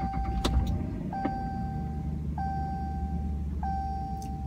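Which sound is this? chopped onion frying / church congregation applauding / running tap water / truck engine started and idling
truck engine started and idling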